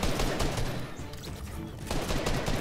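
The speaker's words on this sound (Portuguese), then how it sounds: "o tiro do bot ultrapassa a parede?" Rapid bot gunfire bursts in the video game Fortnite, a dense, loud crackle of shots that keeps going throughout. There is no talk.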